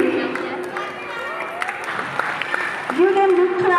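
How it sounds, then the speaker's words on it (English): An audience at a school's annual prize distribution ceremony claps steadily, the applause moderate and diffuse while an announcer's voice speaks over it. "Give them the clap."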